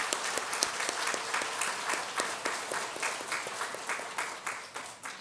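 Church congregation clapping together in a sustained round of applause, dense and fairly close, gradually thinning toward the end.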